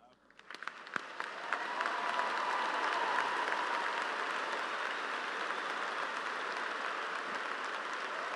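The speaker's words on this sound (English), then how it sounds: "Give a big round of applause to these amazing students, Mr. Aaron Cato from Martin High School." Applause for students at a 2014 school convocation, swelling from scattered claps into broad, sustained clapping from a large crowd, heard at a distance in a big hall.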